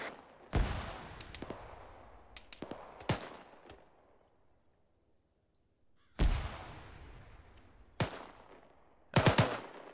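Gunfire in the video game ArmA 3 during an ambush: sharp single shots and rapid automatic bursts crack out at irregular intervals, some loud and close, separated by quieter stretches of fading echo.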